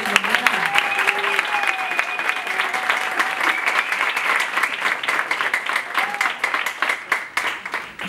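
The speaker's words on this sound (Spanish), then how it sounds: "Un aplauso" An audience applauds steadily for several seconds, dense rapid clapping with a few voices and cheers mixed in, at moderate loudness and gradually thinning toward the end.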